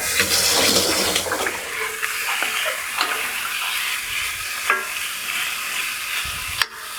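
Flour-dredged beef sears loudly in a hot pan for beef stroganoff, a dense hissing sizzle near the mic with a few scattered scrapes and one sharp clatter toward the end.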